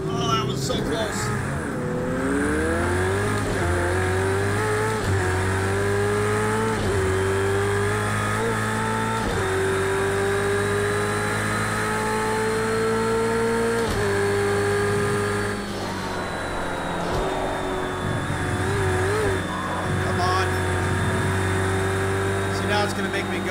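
Race cars on track in the racing game Project Cars 2, a loud continuous engine whine rising and falling with shifts and revs, with others passing, under ongoing talk.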